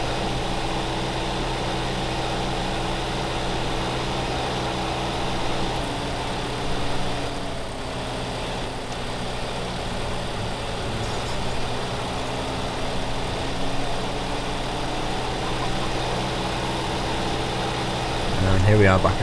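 A tractor engine in Farming Simulator 2015, a steady low rumbling drone throughout with slight shifts in pitch and a louder surge at the end, while someone talks over it.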